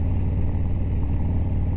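A Harley-Davidson Softail motorcycle with a Screamer stage 4 131 engine and a different cam rumbles loudly and steadily with a deep, continuous low throb while riding along a service road.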